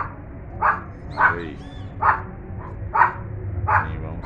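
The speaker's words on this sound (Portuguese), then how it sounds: "O meu cachorrinho tá bravo." A small dog barks angrily five times in sharp, evenly spaced yaps, close by on a cold late afternoon in São Paulo. A person speaks briefly between the barks.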